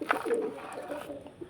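Wing-clipped pigeons coo in low, rounded bursts close by, a soft repeated burble running through the whole stretch with no voices.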